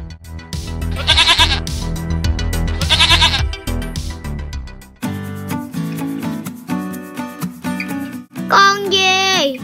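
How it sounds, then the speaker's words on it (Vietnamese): Over cheerful children's music, a goat bleats twice in quick succession at the start, each a wavering, nasal cry, followed later by a shorter bleat near the end as the music continues. "Con dê. Goat."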